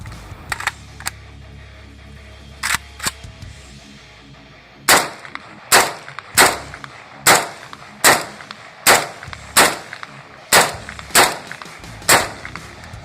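An East German AK-47 fires ten sharp, loud shots at a steady, unhurried pace, after a few lighter metallic clicks of handling.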